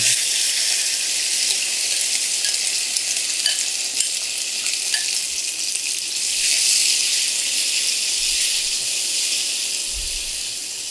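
Semolina and milk mixture poured into hot caramel for suji makhandi halwa, setting off a loud, steady sizzle and bubbling hiss that swells briefly midway and carries on alone without talk.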